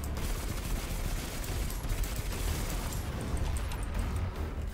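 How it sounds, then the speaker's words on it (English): Enemy gunfire in the video game Destiny 2, a dense continuous barrage of rapid shots and bursts, loud and sustained throughout with no pause. "What is shooting me?"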